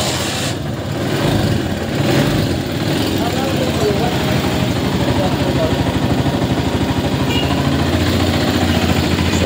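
An engine starts and settles into a steady running hum, close by and fairly loud, with someone talking over it.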